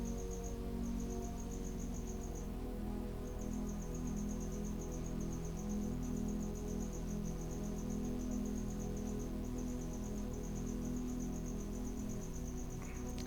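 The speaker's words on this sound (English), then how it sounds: "if you're hearing crickets in the background, I do apologize" Steady, continuous cricket chirping, a high pulsing trill with brief gaps, over a low constant hum throughout.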